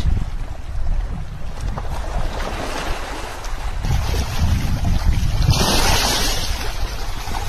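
Strong wind sweeps across an open pangas fish pond, making a loud, continuous rushing roar with buffeting gusts on the microphone that swell toward the end.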